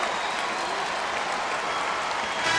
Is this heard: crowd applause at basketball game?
yes